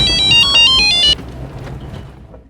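An electronic phone ringtone plays loudly in a repeating melodic pattern, then cuts off abruptly, leaving low background noise.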